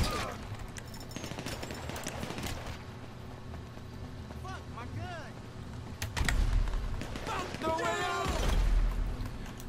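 Gunfire during a casino mission in GTA 5 Online, with scattered shots and bursts over a low background rumble, heavier booming reports in the last few seconds, and someone talking throughout.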